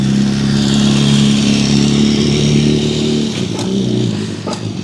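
A motorcycle engine revs hard and steadily at a drift track meet, loud and close, its pitch dropping as the throttle eases near the end.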